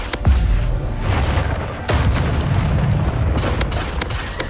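Bombarda explosion spells cast in Hogwarts Legacy, with heavy booming blasts. A sharp one comes near the start and another follows around the two-second mark, set over a rumbling low roar.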